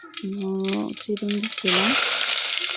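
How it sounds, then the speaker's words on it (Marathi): Chopped onion drops into a hot tempering of cumin, mustard seeds and curry leaves in a kadhai and bursts into loud, steady sizzling after someone speaks. "तर इथे जिरे मोहरीची फोडणी देऊन घेतली आहे"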